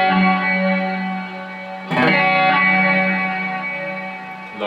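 An electric guitar plays sustained, distorted notes through a Hall of Fame reverb on a tone print, with a fresh attack midway that rings out into a large, spacious wash.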